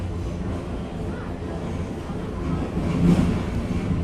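R46 subway train running on the K local line toward 170th Street, a steady low rumble of wheels and motors heard from inside the car, swelling slightly near the end.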